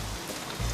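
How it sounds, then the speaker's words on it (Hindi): Heavy rain pours down outdoors near a bus stop, a dense, steady hiss with no voices over it. "यहाँ इतनी बरसात हो रही है"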